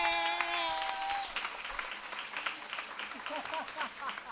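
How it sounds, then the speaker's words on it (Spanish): A crowd at a feminist book-fair talk on sex, bodies and gender applauds; clapping fills the room and tapers off, with a voice briefly heard over the start. "Después tenemos a Sasa Testa, un aplauso."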